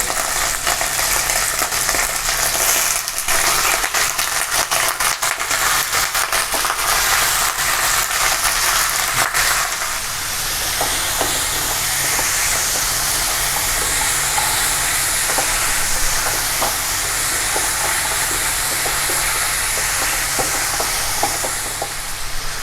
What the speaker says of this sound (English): So oil is nice and hot. Let's fry the mutton pieces.